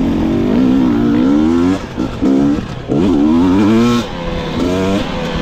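GasGas EX 250 two-stroke dirt bike ridden at Croom, a loud close engine that revs hard with rising and falling pitch, easing off briefly between bursts of throttle.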